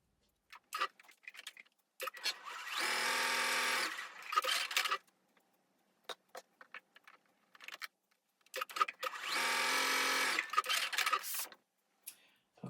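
A sewing machine stitches fabric for a small initial gift tag in two steady bursts of about two seconds each, close and clear, separated by quiet handling clicks and taps.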